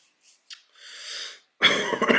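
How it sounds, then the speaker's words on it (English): A person coughs close by: a few small throat sounds and a breathy rasp, then a harsh, loud burst of coughing at the end. "I'm sorry for all the coughing"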